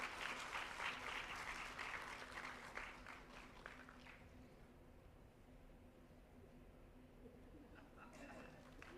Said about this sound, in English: Let us express our gratitude through a big round of applause.